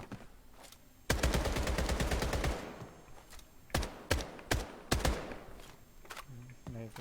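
Sniper rifle gunfire in a video game: a burst of rapid shots near the start, then several sharp, loud cracks spaced apart, with softer thuds and rustling between them.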